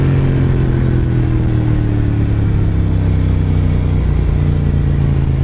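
A Suzuki SV650S motorcycle heard while riding, its engine droning loud and steady up close with rising and falling pitch as it accelerates and shifts, wind rushing constantly.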